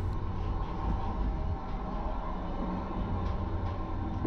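A passenger train runs along the rails toward the Kazakhstan–China border, giving a steady, loud rumble and rattle of wheels and carriages that holds for the whole stretch with no talk.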